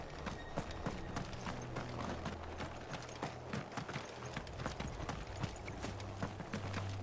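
Steady clip-clop of horses' hooves in Final Fantasy XVI trots along at an even rhythm, moderately quiet, with mechanical creaks and a low drone beneath.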